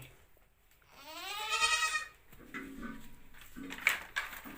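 A goat on a goat farm, a doe that recently bore two kids, gives one loud, wavering bleat close by, followed by quieter shuffling and faint clatter in an otherwise calm pen.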